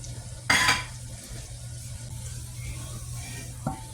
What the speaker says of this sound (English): we're going to start browning this garlic and start sweating out some of that natural oil